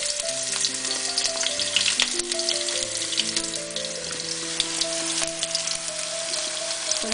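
Onion hisses and crackles in a hot frying pan, a close, steady sizzle with scattered pops and a light stirring clatter throughout, and no voices.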